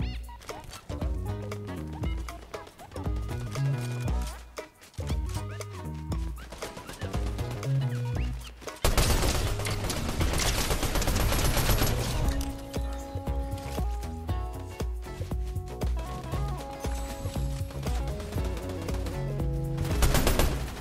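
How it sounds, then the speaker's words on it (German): Gunfire in the battle game Fortnite, bursts of shots over loud continuous game music, dense and busy throughout with a louder stretch in the second half. "Oh, hier wird geschossen."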